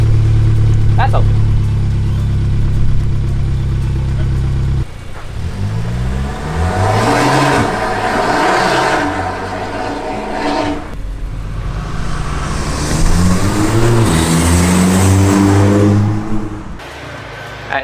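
A Mk7 Volkswagen GTI revs loudly with an XForce valved exhaust open, open and raspy, rising and falling in several pulls, with a person talking briefly.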